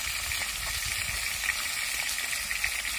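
Fresh fish from a Sundarbans river fries in oil on a boat, a soft, steady sizzle with faint crackles heard at a moderate distance, with no voices.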